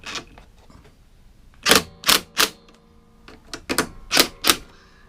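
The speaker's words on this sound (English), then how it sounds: "you just loosely nick up those bolts with your socket or whatever you've got to hand" Socket wrench ratcheting on lawnmower bolts, heard as two clusters of sharp, close clicking bursts separated by a quiet pause.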